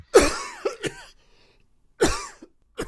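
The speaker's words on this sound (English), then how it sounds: "someone from the door gave a cough to show their presence." A couple of short throaty coughs, then a pause and another cough, close by and fairly quiet, with no talking.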